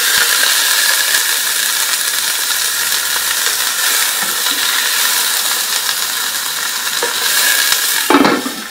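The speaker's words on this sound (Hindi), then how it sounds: "ये इसके चीज पॉपकॉर्न है मेरे पास चिकन की, ये डाल देते हैं इसमें, इनको फ्राई करेंगे" Chicken cheese popcorn frying in hot oil gives a steady, loud sizzle that holds the whole way through, with a few faint stirring or tool clinks and one sharper clatter near the end.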